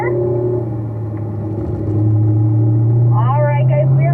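Race car engine pulling hard down a straightaway, a steady loud drone that climbs in pitch as it accelerates toward fourth gear, with a voice talking over it near the end.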